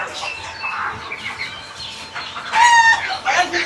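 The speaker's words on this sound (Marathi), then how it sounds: "आपले कोंबडी पण पाहायला भेटणार आहे" Chickens cluck at a busy Mumbai pet market, with scattered clucks building to a louder, sharper burst of calls near the end over faint background bustle.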